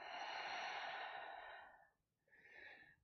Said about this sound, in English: Take a deep breath out.